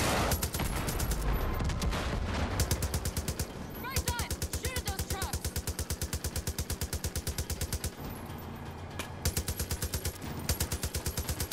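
Rapid machine-gun fire in the video game Far Cry 5, a loud, evenly pulsing stream of shots that runs almost nonstop, with brief pauses and a voice talking over it.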